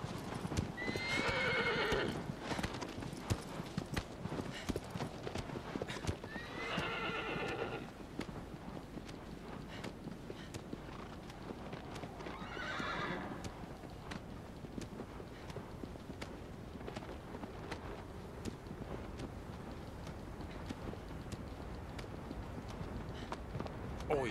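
Hooves clip-clop steadily as a horse gallops in the video game Shadow of the Colossus, with several loud whinnying neighs breaking through over a constant rumbling wind-like background.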